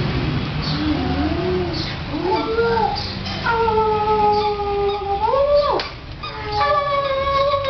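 A dog lets out long, wavering howls that rise and bend in pitch, with a few yips mixed in and steady background hum throughout.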